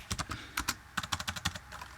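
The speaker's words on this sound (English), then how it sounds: "now type your address and then press enter" Quick, irregular keystrokes on a computer keyboard, close and fairly quiet, with short bursts of clicks and brief pauses between them.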